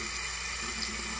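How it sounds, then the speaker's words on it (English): Tap water runs steadily into a sink as a fountain pen is rinsed, a continuous close hiss with no other sounds. "You just want to kind of run that under the water"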